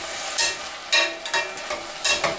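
Onions and peppers fry in a pan while a knife stirs them, giving a steady crackling sizzle broken by several loud scraping stir strokes at an uneven pace.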